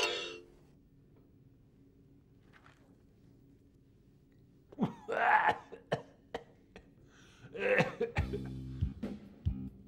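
A person coughs after trying to smoke, a couple of harsh rasping coughs midway and another throaty coughing fit later, separated by near silence, close and moderately loud.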